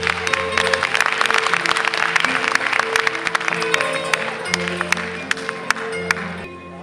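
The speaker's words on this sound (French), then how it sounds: "Applaudissez." Audience applause at a magic show, a steady close wash of many hands clapping with distinct sharp claps standing out, thinning slightly toward the end.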